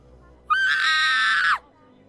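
A woman gives one loud, sustained high-pitched scream lasting about a second, close and alone, falling off abruptly at the end.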